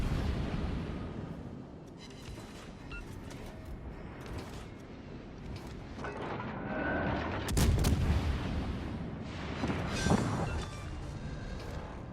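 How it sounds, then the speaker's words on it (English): Naval guns fire from a De Grasse cruiser in the World of Warships Legends console game. A steady low rumble runs through, with a few sharp, loud blasts standing out. "All stations, requesting fire on the designated target."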